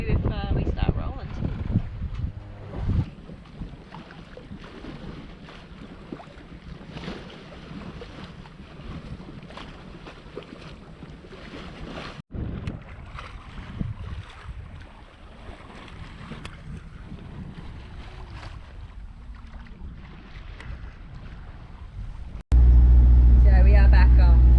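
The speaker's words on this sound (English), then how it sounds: "So we are back motoring, as I'm sure you can hear." A sailboat motoring under engine: a steady engine drone hums beneath rushing water and wind noise, with people talking over it and a louder burst at the very end.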